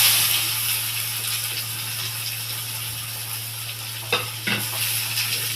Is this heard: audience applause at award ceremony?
no